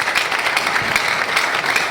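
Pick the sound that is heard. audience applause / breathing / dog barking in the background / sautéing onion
audience applause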